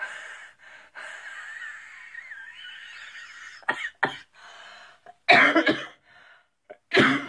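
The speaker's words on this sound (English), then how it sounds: "I just can't stop coughing" A person with breathing trouble, like asthma, breathes raspily and wheezes, then breaks into several harsh, close coughs in bursts, with short quiet gaps between them.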